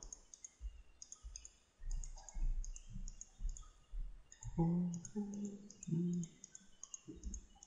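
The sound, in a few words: computer mouse clicks placing points with the Photoshop pen tool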